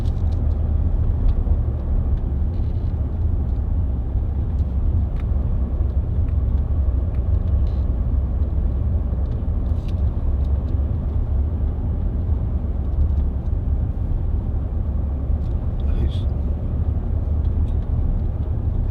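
Range Rover 4.4 TD V8 cruising at 30 mph and about 1100 rpm, giving a steady, low in-cabin engine and road rumble that stays constant and subdued throughout, with no talk over it.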